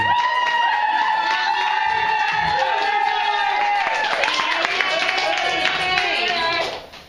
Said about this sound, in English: Honestly, we should obviously start this show by giving a round of applause to Corey Wiseman.